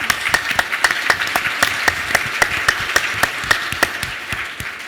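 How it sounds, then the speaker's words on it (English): Crowd applause at a space startup pitch-off, steady clapping from a room of listeners with distinct individual claps standing out, moderate and even throughout. "Give them a round of applause"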